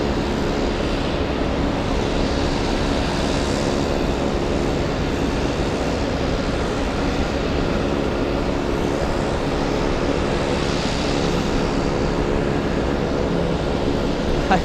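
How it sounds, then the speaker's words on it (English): Boeing 747 airliner on the runway at Boston Logan airport, a steady, loud jet engine roar that holds unbroken throughout with no gaps. "747 staying on the runway a little too long."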